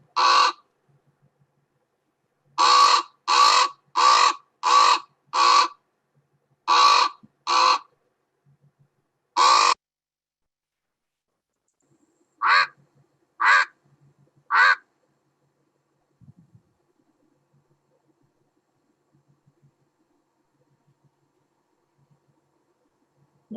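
A Chihuahuan raven gives a series of harsh, croaking caws, in bursts of several calls followed by pauses, loud and close against near silence.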